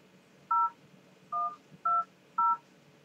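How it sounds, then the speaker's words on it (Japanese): Four separate touch-tone dialing beeps on a telephone, each short, clean and evenly spaced at a steady moderate volume over quiet room noise. "一応電話してみましょう。"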